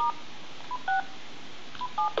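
An old telephone being dialed gives a series of short electronic keypad tones, several quick beeps with brief pauses between them, clear and alone.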